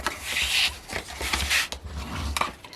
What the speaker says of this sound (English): So burnish everything up.